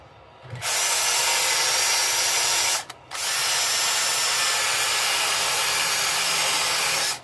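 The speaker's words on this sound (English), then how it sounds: "Gums up the sanding paper because this is still very clearly wet." A cordless power sander works over a still-wet walnut bowl, droning loudly and steadily from start to end with one brief stop near the middle before it resumes.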